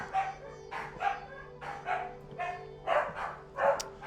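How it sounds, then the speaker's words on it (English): Dogs bark repeatedly in the video game What Remains of Edith Finch, a string of about eight barks at a steady pace over a low ambient hum, fairly close and moderately loud. "there goes the dogs again"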